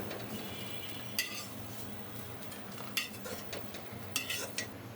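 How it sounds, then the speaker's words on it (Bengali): A crisp fried chickpea-lentil fritter is lifted from hot oil in a frying pan: three sharp metallic clinks of a utensil against the pan, spaced over a few seconds, above a low, steady background of faint frying. "বড়াটা একেবারে মুচমুচে করে ভেজে নিয়েছি, তুলে নিই।"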